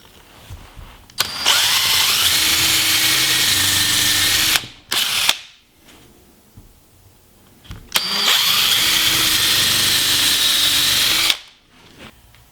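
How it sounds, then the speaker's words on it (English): A countersink pilot bit drills holes into the side of a wooden office desk cabinet in two loud sustained bursts of whirring drill, each lasting about three and a half seconds with a short pause between, no talking. "I'm ready to drill my holes, and I'm using a pre-drill countersink drill bit"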